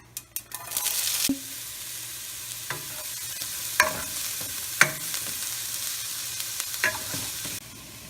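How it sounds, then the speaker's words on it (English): Onions frying in a pan with mustard seeds and cumin: a soft steady sizzle under a few sharp stirring scrapes and clinks of a utensil, close and fairly quiet, with no talking. "While my onions are frying, I'm going to start cooking the rice."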